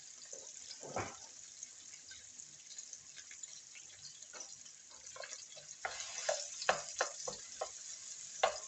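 Garlic and shallots sizzle steadily in a hot pan, with occasional stirring scrapes and bursts of crackle growing louder toward the end.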